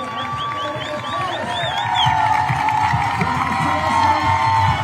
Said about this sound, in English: Really good crowds here. They are loving this.